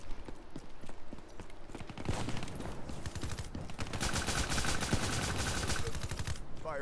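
Rapid automatic fire from an R70 Ajax in Call of Duty Black Ops III, dense bursts of close gunshots rattling continuously and growing heavier toward the end, with game effects layered over it.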